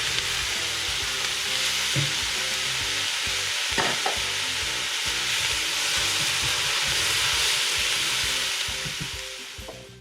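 Potatoes sizzle and crackle steadily in a hot pan while being stirred for spicy pumpkin soup, a dense continuous frying hiss with occasional scrapes and clinks of the spoon.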